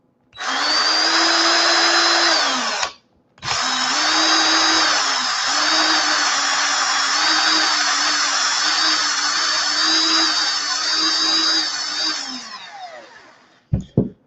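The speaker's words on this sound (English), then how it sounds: "My drill's actually on the slow." Power drill set to slow speed spins sandpaper to polish a vape coil, whirring loudly and steadily for about twelve seconds after a brief cutoff and restart, then winding down to a stop.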